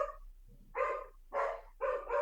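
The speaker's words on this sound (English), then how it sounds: "So the dogs are now going crazy." Several dogs bark excitedly indoors, loud repeated woofs in quick bursts with a short low whine between, close by and without speech.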